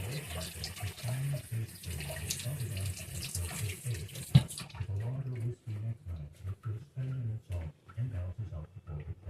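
Water runs steadily from a kitchen tap while greasy burger meat is rinsed under it for meatloaf, a continuous splashing stream with a brief clatter midway and a voice talking over it.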